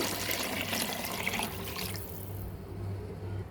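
Salt brine poured over lemons for pickling, a continuous watery splashing and trickle that is fairly faint and steady, thinning out partway through, with no talking.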